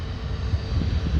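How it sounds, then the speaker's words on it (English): A Boeing 737 airliner lands at Dulles airport, a steady, broad jet roar with a deep low rumble that holds at an even, moderately loud level throughout, with no voices. "Oh, I think that's the 737 from earlier."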